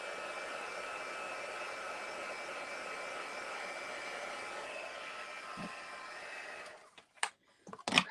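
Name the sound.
heat tool drying spritzed watercolour background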